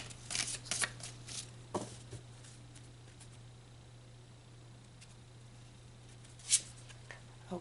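Tarot cards riffled and shuffled during a love reading, soft papery flicks clustered in the first two seconds, then quiet hiss with one sharp card snap near the end, close and faint over a steady low hum.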